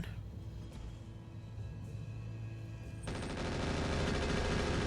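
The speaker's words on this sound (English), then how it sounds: "Machine guns. That is surprising, though. That's more like what I expected. Those rotary guns." Rotary machine guns firing in the RogueTech mech game, a dense sustained roar of rapid shots that swells louder partway through, steady and close, with no talk over it.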